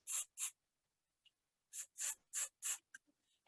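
Hairspray from an aerosol can misted over styled hair already set with gel, mousse and wax, in six short hissing bursts grouped two then four, close and fairly loud, with a faint click between them.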